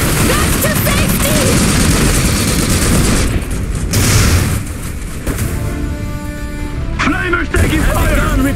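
Battle in the real-time strategy game Iron Harvest, Kolno in Polonia: dense continuous gunfire and booming explosions, loud and close throughout, with a unit voice callout mixed in.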